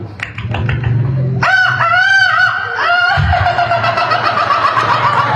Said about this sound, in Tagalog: Oh, nakanta na manok.